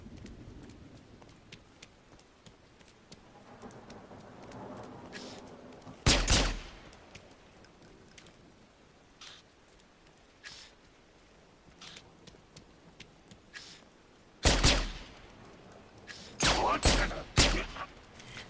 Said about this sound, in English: So what I'm going to do is move out, fire a couple shots, draw him out,